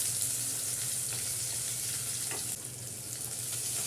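Crushed ginger and garlic sauté in a hot pan for tomato rice, a steady, even sizzle that holds at a moderate level throughout with no voices.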